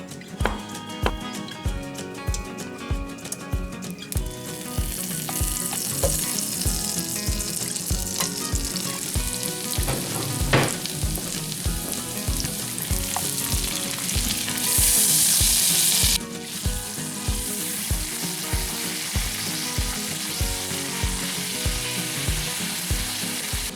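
Two steaks in olive oil with salt and pepper sizzle steadily in a pan, with a rhythmic clatter of stirring or scraping and a brief burst of running water partway through.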